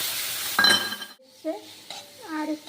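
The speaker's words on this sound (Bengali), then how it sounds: "এবার এই পাকা পটলের শাঁসটা দিয়ে দেবো যেটা আলাদা করে রেখেছিলাম" Ripe pointed gourd pulp hitting hot oil with browned onion, garlic, chili, turmeric and salt, giving a soft sizzle with light stirring and utensil clinks. A short pause follows, then a voice speaks over the pan.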